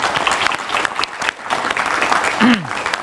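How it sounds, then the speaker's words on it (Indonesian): A studio audience at a political talk show breaks into loud, dense applause that swells and dips slightly, with a brief voice cutting through near the end. "tepuk tangan dulu"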